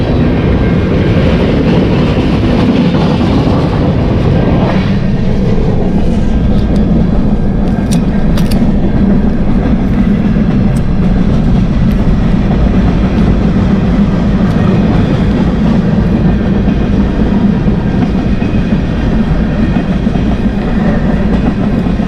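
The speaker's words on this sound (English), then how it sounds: "Oh, a train! Yay! We got a train." A train passing close by outdoors on a bright morning, a loud continuous rumble and roar of rail cars with faint clickety-clack and occasional high squeals, no talking.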